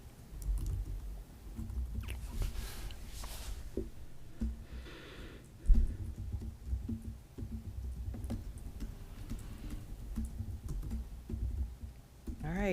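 Someone types an email on a computer keyboard during a council budget committee meeting, producing quiet, irregular bursts of key clicks and taps with occasional louder keystrokes, faint and close over room murmur.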